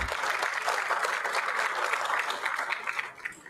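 Audience at a town hall forum on the quarterly budget and economic performance giving the panel a round of applause, dense continuous clapping that tapers off near the end.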